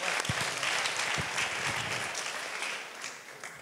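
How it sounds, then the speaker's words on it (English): Attendees at a Java developer conference closing session applaud the sponsors with steady, dense clapping from a sizable crowd, along with a few sharper individual claps and low thuds early on. "Yeah, applause."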